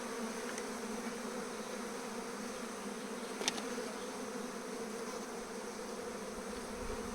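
A caught bee swarm hums with a dense, continuous buzzing drone, steady and fairly quiet throughout, with one brief faint click partway through and no voices.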